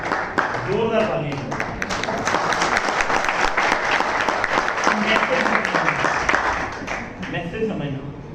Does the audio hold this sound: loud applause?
yes